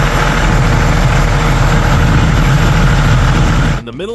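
A steady, loud aircraft engine roar on an airport apron with strong low rumble, holding constant before cutting abruptly near the end into a brief tonal sweep.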